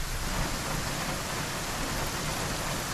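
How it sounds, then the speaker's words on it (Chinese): Steady, dense rain falling outdoors, a constant hiss of drops pattering on surfaces with no breaks and no voices. "这下雨了吗？"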